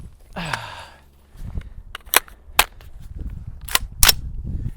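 A rifle firing Black Hills 77 grain open tip match rounds gives several sharp, loud cracks spaced over a few seconds, after a soft breathy sound near the start.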